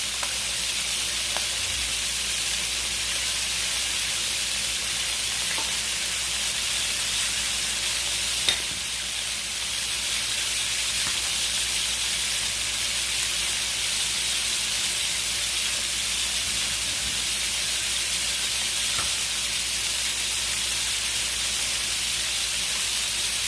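Abalone sizzles in plenty of butter in a pan, giving a steady loud frying hiss that runs unbroken with only a few faint clicks and no voices.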